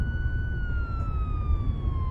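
A wailing electronic police car siren with a slowly falling tone, steady and moderately loud over low rumbling traffic noise.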